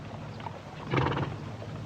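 A horse whinnies briefly, a shaky neigh rising out of a steady, noisy outdoor background, moderately loud and fairly close, in a Western film.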